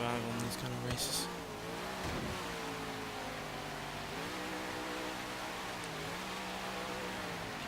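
A car engine in the Forza Horizon 3 racing game drones and revs continuously at high pitch while racing through snow on a blizzard mountain, loud and sustained with shifting pitch as it accelerates.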